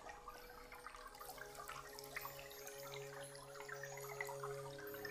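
Water runs from an opened household tap, a steady close rushing and splashing stream that holds evenly throughout, with no voices.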